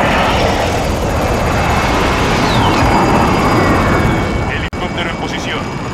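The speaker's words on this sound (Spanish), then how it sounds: "Ataque aéreo de precisión aliado en camino." Aircraft from an allied precision air strike in Call of Duty: Modern Warfare Plunder mode roars loudly and continuously under game voices, with one brief dropout near the end.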